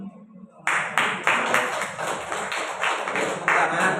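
A rhythmic round of clapping at a teachers' workshop in Kabupaten Bandung starts abruptly and runs steadily, with sharp, evenly spaced hand claps under a faint murmur of voices.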